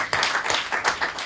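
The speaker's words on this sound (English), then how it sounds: "Let's give him a big round of applause." An academy audience claps for a visiting soccer life coach and former footballer, a short burst of dense, close clapping.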